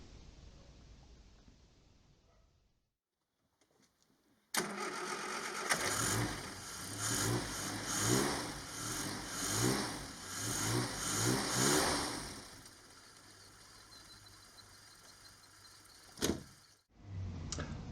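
Car engine fitted with an SU HS4 carburettor starting after a quiet pause, then revving in repeated rising and falling surges at close range before settling and cutting off.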